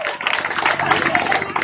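An audience applauds a girl contestant at a school debate competition: a dense, steady patter of many hands clapping at moderate loudness for the full stretch, with no voice over it.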